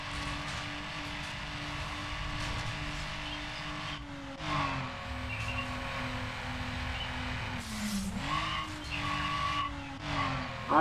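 Race car in Need for Speed Underground roaring steadily, with surging revs, gear shifts and a sharp tire skid near the end, close and loud with no talking.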